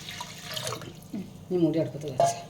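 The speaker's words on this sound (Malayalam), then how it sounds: "ഇനി നമുക്ക് ഇതിലേക്ക് ആവശ്യത്തിന് വേണ്ട വെള്ളം ഒഴിക്കാം" Water is poured into a pressure cooker holding wheat for a sweet payasam, a splashing trickle heard close up beneath people talking.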